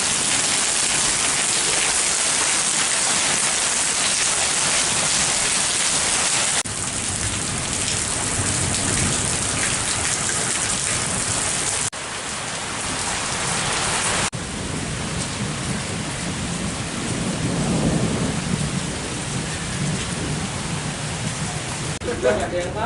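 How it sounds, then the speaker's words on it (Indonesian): Heavy rain pours down in Metro Lampung as strong wind blows, a dense steady roar of drops on surfaces with gusty swells and low rumbling, continuous and loud throughout. "Hujan lebat,"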